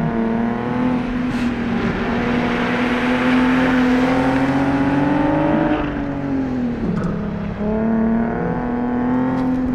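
Loud, steady engine drone from a Nissan 370Z or Infiniti G37 S coupe V6 accelerating through a long gear, pitch climbing slowly, dipping briefly at a shift near the seventh second, then rising again.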